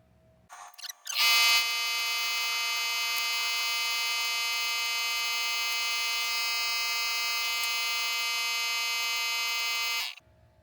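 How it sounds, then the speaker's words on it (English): Air compressor kicking on in a woodworking shop, a loud, steady whining drone that runs for about nine seconds before cutting off abruptly, with no talking. "Sorry about that air compressor noise."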